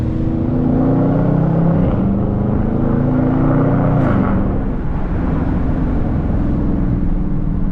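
A Dodge Charger R/T in track mode is driven through city streets with manual paddle shifting, its loud engine droning close and continuously while revs climb, shift and climb again.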